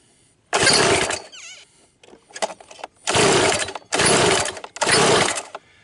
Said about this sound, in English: I think that's just the clutch we're hearing.